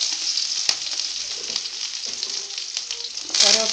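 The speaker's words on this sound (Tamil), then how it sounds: "நல்லா வதக்கி விடுங்க" Onions and curry leaves sizzle in hot oil with mustard seeds, chana dal and dried red chillies for a beetroot poriyal, a dense continuous hiss up close, with a brief clatter and a louder burst near the end.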